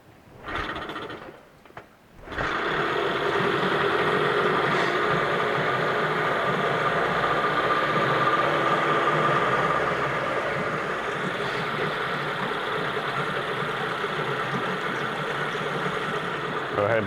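2001 Johnson 9.9 hp tiller outboard boat motor with a cleaned carburetor starting up after a few pull sounds, then settling into a loud, steady idling drone close by that continues throughout.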